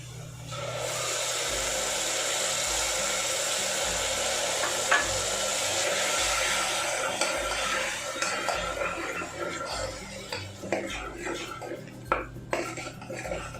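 Four chopped tomatoes hit golden brown onions in a pan and fry with a steady, broad sizzle, followed by scraping and clinking as the mixture is stirred; loud and close, with no talking.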